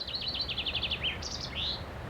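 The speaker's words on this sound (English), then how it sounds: "These are birds. They're talking Irish. See how weird they chirp?" Small birds chirp in quick, high trills, a rapid run of notes followed by a couple of shorter tweets, fairly faint against a low background hum.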